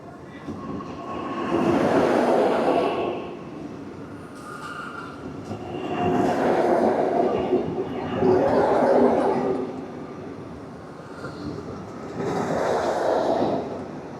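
A Vande Bharat sleeper train, decorated with flowers, rumbles through Nabadwip Dham station at night in three or four swelling passes of rolling wheel and carriage noise, moderately loud with faint squeals.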